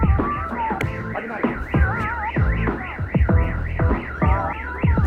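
A loud car alarm, set off by someone picking the car's lock, cycles through its siren patterns, rising and falling wails and rapid warbles repeating without pause.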